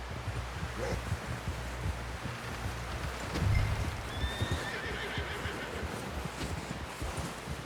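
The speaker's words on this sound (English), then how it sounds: "Someone help John down off this horse" A horse in Red Dead Redemption 2 whinnies and snorts amid soft clip-clopping hooves and faint rustling, with a low thump near the middle; no talking.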